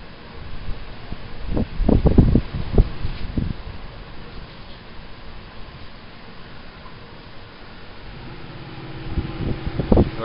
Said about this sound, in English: 22 mile an hour wind. That's pretty strong for Eastern Ontario